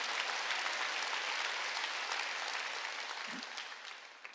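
Steady applause from a large church congregation during a sermon, dense and continuous, slowly fading toward the end.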